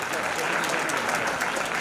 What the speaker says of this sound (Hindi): जोरदार तालियां इस बात के लिए।